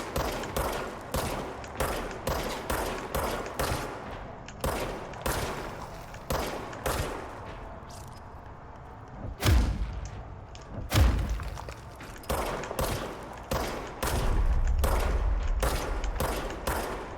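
Rapid bursts of service weapon gunfire in the video game Control, loud and close, with sharp repeated shots in clusters, a lull midway, then heavier impacts and a sustained low rumble toward the end.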